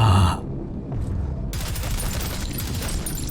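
Rapid-fire shots from a gun in the retro first-person shooter Prodeus, a quick steady stream of bursts that runs on for about two seconds after a short loud hit and a brief pause.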